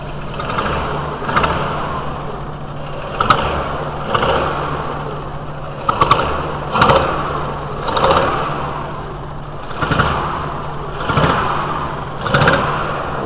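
A cold VW T4 with the 2.5L engine idles roughly, its low steady drone broken by repeated uneven stumbles and bursts every second or two, recorded close with no talking.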